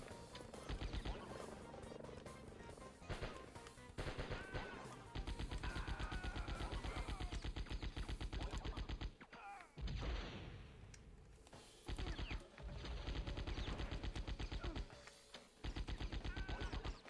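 Sustained automatic gunfire in the video game Die Hard Trilogy, long rapid rattling bursts separated by brief pauses, loud and dense, with other game effects between volleys.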